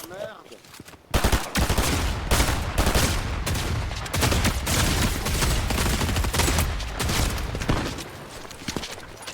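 Rapid gunfire and explosions from the video game Fortnite Battle Royale, loud and dense bursts running almost continuously after a brief quiet opening.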